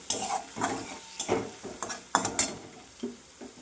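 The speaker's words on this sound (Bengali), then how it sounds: "এবার মশলাটা কষবো একটু।" Green chili paste spice mix frying and being stirred in a pan for a bottle gourd and koi fish curry, with repeated scraping spoon strokes against the metal over a soft sizzle, close and fairly loud.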